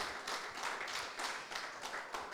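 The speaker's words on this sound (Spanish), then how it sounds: "Dale un aplauso a nuestro papá" A church congregation claps together, a brief burst of fairly quiet, rhythmic applause with hands striking roughly in unison several times per second.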